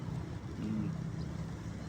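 Ship's engine running as a low, steady rumble with a faint tonal hum, distant and quiet, with no talking.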